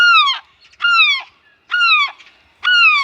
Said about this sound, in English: There's this seagull, and she's got an egg, and she makes an enormous amount of noise